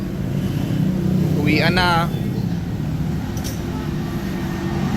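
A Toyota Hilux with a custom mid side-exit exhaust idles nearby, a steady low rumble running throughout, with a short spoken phrase and a brief whistle-like sound over it.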